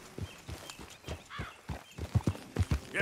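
Horse hooves clip-clop in Red Dead Redemption 2, a run of close, dull thuds in an uneven walking rhythm that grows a little firmer toward the end.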